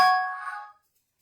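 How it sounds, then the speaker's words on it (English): A mobile phone notification goes off with a single bright metallic chime, clear and close, ringing out alone and fading to silence within about a second. "My phone is going off and I don't really know what that was."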